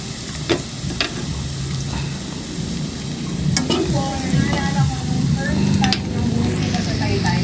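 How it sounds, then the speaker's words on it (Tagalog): Minced garlic sautés in a small amount of oil in a pan, a steady close sizzle with soft stirring scrapes and a few sharp utensil clicks, some faint voice or background noise underneath. "nakalagay na po yung bawang. Hinigisa po na po natin"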